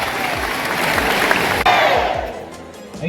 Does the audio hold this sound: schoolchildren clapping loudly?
yes